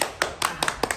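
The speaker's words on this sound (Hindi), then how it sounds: "ताली मारियो" Hands clap sharply about five times in an uneven rhythm, close and fairly loud, during a village comedy skit, with no voices between the claps.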